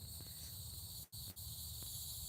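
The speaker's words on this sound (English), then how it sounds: "The cicadas. I'm so used to them, I just kind of tune them out." Cicadas droning outdoors, a steady high-pitched buzzing chorus at moderate distance that continues throughout with a brief dip midway.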